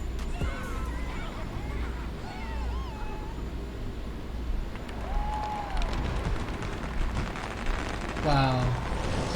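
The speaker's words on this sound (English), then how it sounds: "Wow, such pretty fireworks." Fireworks going off in the Disney Infinity video game, a dense run of crackling pops over a steady background bed with whistling, meow-like tones drifting through.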